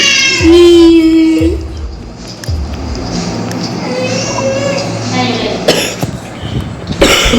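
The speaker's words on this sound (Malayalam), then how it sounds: "നല്ല ചുമയാണ് ഗൈസ്. അവനാണ് ചുമക്കിന് ഗൈസ്." A child coughs in short bursts, mixed with a young voice and some crying sounds, over steady background noise.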